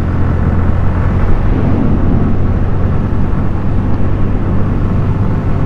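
A steady engine rumble comes from a 2024 Suzuki Gixxer 150 motorcycle during a test ride. It sounds loud and continuous, with a deep, even drone that does not change.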